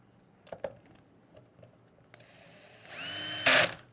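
Assembling an Xbox Series X: a few light clicks and taps, then a small power screwdriver whirs up loudly for about a second as screws are driven in, close by.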